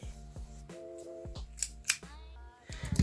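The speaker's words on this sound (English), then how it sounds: "I'm going to cut off the sleeve" Scissors cutting the sleeve off a thrifted dress bodice, giving a few close crisp snips over a low background hum with no voices.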